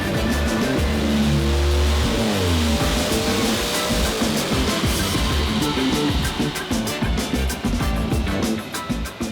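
An LS-swapped Audi Quattro with four diesel turbos and all-wheel drive roars on a dyno, the engine loud and close as it climbs through a long pull with rising harmonics, then its note breaks up and stutters toward the end.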